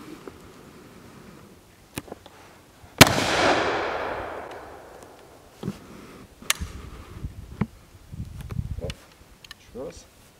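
A Lorenz 1854 percussion rifle fires a black powder charge: one sharp, loud crack followed by a long fading rumble. Quieter clicks and handling noises follow.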